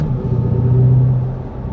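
A low, loud engine rumble from Ferrari sports cars passing close by at a car show, holding a steady droning tone that swells and eases over a couple of seconds.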